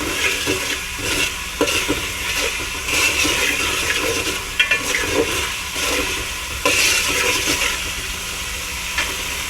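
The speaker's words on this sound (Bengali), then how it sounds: "এটা ভালো মতো কষিয়ে এটার মধ্যে আমি চিকেন যেটা আছে ওটা দিয়ে দেব।" Chicken being stir-fried in oil and spice paste for chicken tehari, giving a steady close sizzle and hiss with occasional scraping stirs throughout.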